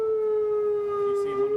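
A dam release warning horn sounds a single sustained steady tone, loud and unbroken, with faint background noise.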